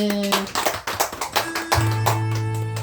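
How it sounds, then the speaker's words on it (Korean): A church congregation claps in applause to God, a rapid, uneven patter of hand claps that blends with sustained music tones, fairly close and loud. "하나님께 영광의 박수."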